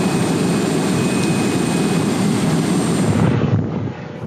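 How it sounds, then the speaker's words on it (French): Super Puma helicopter flying during a firefighting water drop in Kosovo, a loud continuous rotor and engine roar close by, steady throughout and dropping slightly at the very end. "Le Super Puma est actuellement le plus gros hélicoptère que nous ayons"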